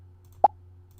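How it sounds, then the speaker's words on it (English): A single short, bright pop from a Scratch cookie clicker game sounds once midway, isolated over a faint steady low hum. "hear that pop sound?"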